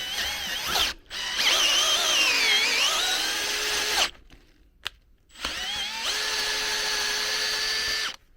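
A drill tap grinds through a combined 10mm of steel plates in three long, loud bursts, its pitch rising and wavering under load, with brief pauses between cuts.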